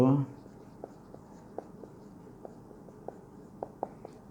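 A teacher writes accounting entries for share capital. Soft, intermittent strokes and taps recur through a quiet room, after a brief burst of voice at the very start.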